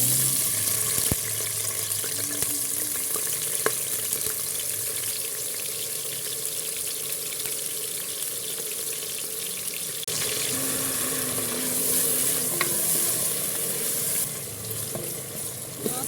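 Onions, two medium ones, frying in oil with turmeric in a pan while being stirred, giving a steady close sizzle with occasional scraping of the spoon and no talk.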